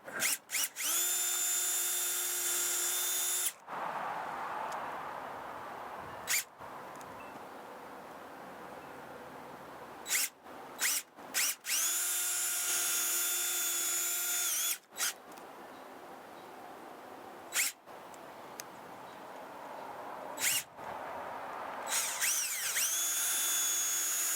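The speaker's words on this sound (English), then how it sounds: "I hate drilling through stuff that's supposed to be waterproof." A power drill whines loudly in several long bursts through a waterproof security camera housing, stopping briefly between runs and revving up again, with short clicks and knocks in the pauses.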